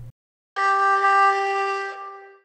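A sampled zonghu, a Chinese bowed string instrument of the huqin family, holds a single steady note with no vibrato, alone and fairly loud for about a second and a half before fading out.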